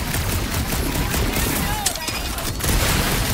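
Rapid bursts of gunfire in the Guardians of the Galaxy video game, dense and loud, layered with game effects and voices talking over the shooting.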